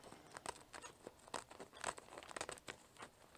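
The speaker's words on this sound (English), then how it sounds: "I'm going to take my scissors that I stole from Miss Sheila again, and I'm going to cut a slit about 3 inches from the bottom" Dull scissors cut a slit about three inches from the bottom, making a quick series of close, crinkly snipping and crunching sounds at a low level.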